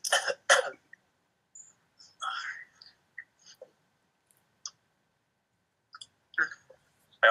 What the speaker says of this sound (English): Get all coughs out now.